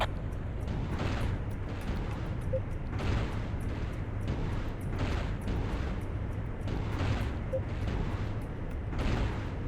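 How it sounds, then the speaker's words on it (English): Missiles launched and exploding in the video game Battlezone: Combat Commander, with a string of muffled, rumbling booms repeating roughly every second over a constant low battlefield hum. "Missiles away."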